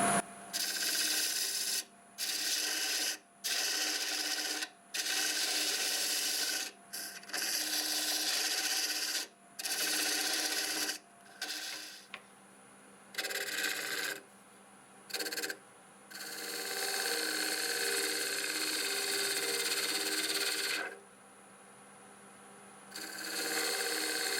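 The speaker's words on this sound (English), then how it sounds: "We'll cut that dovetail on there now." Repeated bursts of rasping cutting as a tool cuts a dovetail into a spinning Siberian elm blank on a wood lathe, stopping and starting in irregular passes, with one longer continuous stretch.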